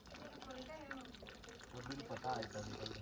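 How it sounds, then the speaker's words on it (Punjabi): A mother draws water in a hillside home in Himachal, the liquid running and splashing steadily beneath close, continuous conversation. "ਮੰਮੀ ਆਪੇ ਪਾਣੀ ਕੱਢਦੇ ਪਏ"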